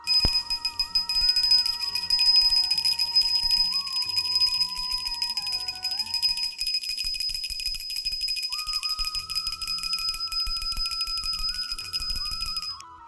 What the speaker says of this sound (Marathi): आपल्या याच देवघराच्या जवळून हा घंटानाद कसा येतोय